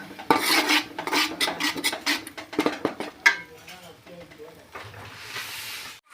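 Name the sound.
tomato being stirred and fried with spices in a pan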